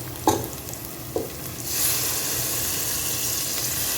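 Garlic and garlic paste sautéing in oil in a pan for Ambur mutton biryani: a couple of soft knocks, then a steady, fairly loud sizzle that swells and holds to the end, with no talking.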